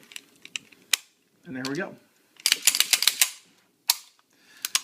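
Slide and guide spring being fitted back onto a new Colt 1911 pistol, giving a series of sharp metallic clicks and clacks, a few single snaps and a cluster of quick ones, with a brief spoken phrase between them.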